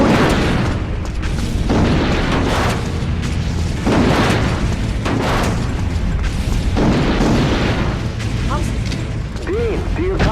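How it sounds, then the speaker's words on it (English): An explosion rips through a burning engine room in a firefighter video game, heavy booming blasts and rumbling bursts that stay loud throughout, with mechanical clanking and short voice-like tones near the end. "another explosion!"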